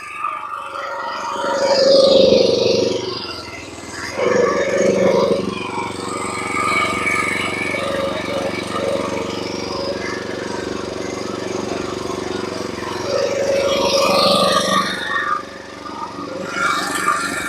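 A Norwood sawmill blade cutting through a white pine log, a loud sustained mechanical whine and rumble that swells and eases as the cut proceeds, with a voice speaking over it.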